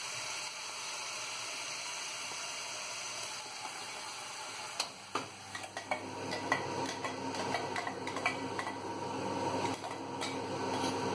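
Onion and tomato masala being sautéed in a pan, a steady low sizzle with scattered scraping and clinking of a spoon stirring, the stirring strokes growing busier in the second half.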